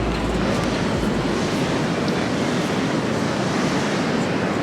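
Pacific surf at Ocean Beach in San Francisco, California, a steady loud wash of breaking waves with wind rumbling against the microphone, continuous throughout and without voices.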